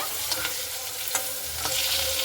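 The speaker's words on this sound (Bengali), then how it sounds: "তো আলুগুলোকে সবার আগে ভেজে নেব তো দেখুন আলুগুলোকে আমি দিয়ে দিয়েছি দিয়ে খুব ভালো মতো করে ভেজে নিব আলুগুলোকে" Potato pieces frying in hot oil in a pan, a steady close sizzle with faint scraping as they are stirred, and no talk.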